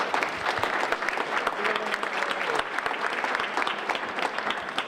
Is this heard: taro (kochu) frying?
no